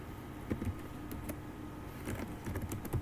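Quiet keystrokes on a computer keyboard while folds are deleted in the Vim editor, a few soft scattered clicks in small bursts against low background hum.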